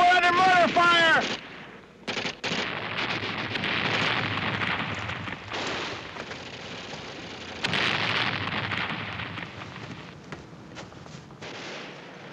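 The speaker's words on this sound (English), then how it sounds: "We're under mortar fire." Mortar rounds burst in a war television drama, a series of loud booming blasts and rumbling crashes spread across the scene, with a brief voice shouting at the start.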